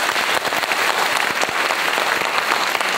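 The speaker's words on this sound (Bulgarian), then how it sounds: "Аплодисменти за бившата директорка на детска градина номер 9, Калина Малина, госпожа Роза Методиева" A crowd at a kindergarten anniversary celebration applauding steadily, many hands clapping in a dense, sustained burst without voices on top.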